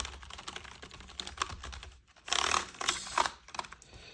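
Typing on a Dell Pro 5 KM526 full-size keyboard with numpad, quick clusters of close, crisp key clicks with short pauses and a brief louder flurry partway through, no voice.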